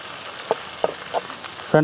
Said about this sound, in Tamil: இப்போ நம்ம இந்த வெங்காயம், மிளகாய், கொத்தமல்லி, கருவேப்பிலையை நல்லா வதக்கிக்கலாம் ஃப்ரெண்ட்ஸ்